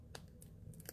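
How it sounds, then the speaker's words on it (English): Scissors trim decorative specialty paper in a few quick, faint snips, short crisp cuts scattered over a moment of quiet room tone. "I'll have to use scissors to trim that."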